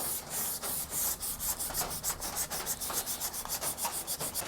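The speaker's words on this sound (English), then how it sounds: "We got some of the sanding work done on the back of this neck." Steady rhythmic scratching of sandpaper rubbed back and forth over a wooden electric guitar neck by hand, close up and continuous, with no voices.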